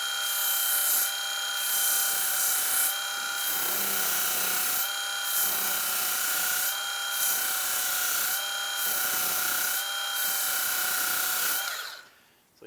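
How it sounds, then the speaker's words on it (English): A small powered band file sharpens a tungsten electrode for TIG welding. Its loud, steady high motor whine is broken by repeated rasping grinding bursts as the tip touches the belt, then the whine winds down at the end. "One of the things I love about these little band files is they are an awesome tungsten sharpener."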